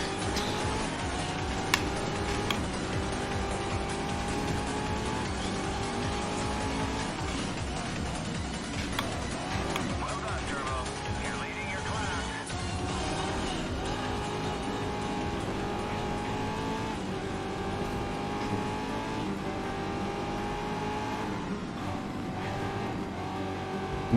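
Race car engines from a GT1 and an LMP2 in the GRID racing video game, a steady loud engine roar with shifting pitch sustained throughout, without pauses.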